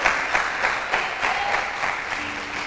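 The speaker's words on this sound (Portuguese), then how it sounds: "dá um aplauso ao Senhor" A church congregation applauds in praise, sustained dense clapping from many hands with a steady crowd wash and a few stronger bursts, no talk over it.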